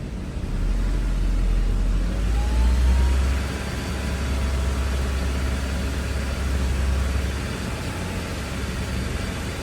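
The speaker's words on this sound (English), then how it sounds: "Let's bring the RPMs up." A Honda S2000 engine, running at a steady idle, rises briefly to a higher rev and then settles back into a constant low rumble heard up close.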